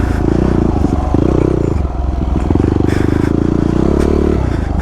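A Yamaha WR250R dirt bike on a muddy trail chugs loudly and close through ruts, its single-cylinder engine thumping with small surges in throttle. Clatter and scraping from the bike come through now and then.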